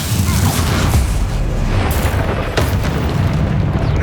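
Loud, dense blasting from a Confringo spell in the video game Hogwarts Legacy, a sustained roar of booms with sharp bursts near the two- and two-and-a-half-second marks, filling the whole clip close and heavy.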